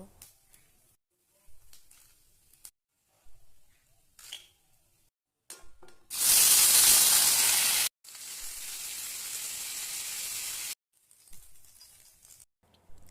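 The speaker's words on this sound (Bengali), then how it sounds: "আগে পনিরটাকে একটু ভেজে নেব।" Paneer pieces frying in hot oil with bay leaves and whole garam masala, a loud burst of sizzling hiss that runs for several seconds, then eases into a steadier crackle before stopping, with quieter kitchen clatter around it.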